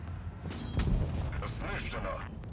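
A single heavy tank cannon shot in World of Tanks Blitz booms out, deep and abrupt, followed by mechanical rumbling and faint game effects.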